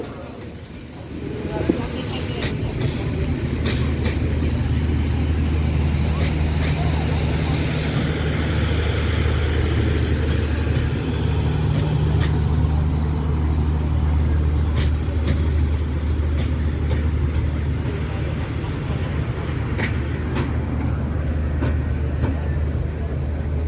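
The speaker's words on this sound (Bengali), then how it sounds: "চট্টনা এক্সপ্রেস অল্প সময়ের মধ্যেই চার নম্বর লাইনে এসে দাঁড়াবে" The Chattala Express passenger train arrives at Tongi Junction station with a loud, continuous rumble and droning hum that holds steady throughout, while faint voices and station bustle sit underneath.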